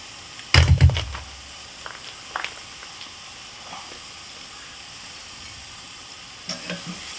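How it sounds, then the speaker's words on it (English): Steak seared on a hot grill gives off a close, loud burst of sizzle as it hits the heat, then settles into a soft, steady frying hiss with a few faint pops and another short sizzle near the end. "Nice sizzle coming off of it."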